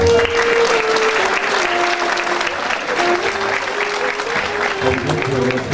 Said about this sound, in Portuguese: Uma salva de palmas para os agraciados.